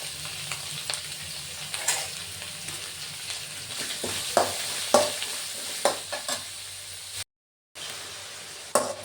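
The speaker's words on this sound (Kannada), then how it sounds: "ಈರುಳ್ಳಿ ಹಾಕೊಂಡಾದ್ಮೇಲೆ ಇದು ಚೆನ್ನಾಗಿ ಫ್ರೈ ಆಗಬೇಕು" Finely chopped onions frying in oil in a pan, a steady sizzle running throughout with regular scraping strokes of a stirring spoon, close and fairly loud, with a brief gap of silence near the end.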